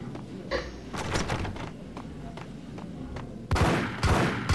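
Gunfire in the PC game Max Payne, a string of sharp shots with irregular spacing that gives way to a louder, heavier burst of rapid fire near the end.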